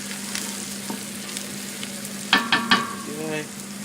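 Onions fry in a pan for a chicken curry, a steady sizzle with a low electrical hum, broken by three sharp clattering stirs of a utensil near the end.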